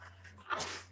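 A single short sneeze, quick and fairly close, bursting out against a quiet room with a low steady hum underneath.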